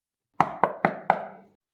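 Four sharp knocks on a wooden door, evenly spaced and close, each with a short ringing decay, followed by silence.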